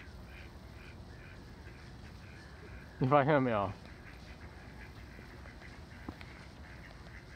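Mandarin ducks at a pond in Solna nature reserve give a short burst of loud, nasal calls partway through, standing out over steady outdoor ambience while people talk nearby.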